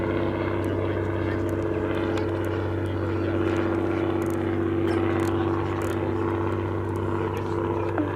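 Hawker Nimrod Mk.1 propeller biplane fighter making a display pass at Duxford, its engine a steady, continuous drone with a strong low hum, fairly loud throughout.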